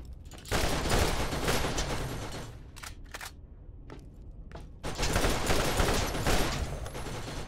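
Rapid bursts of iridium weapon gunfire in Borderlands, two long dense volleys at the start and end with a few sharp isolated shots between.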